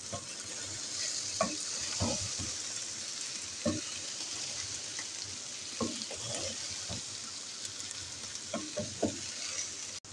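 Okra frying in a pan for bhindi qeema gives a steady close sizzle, broken by intermittent scraping stirs and clinks of a spoon against the pan, with no talking.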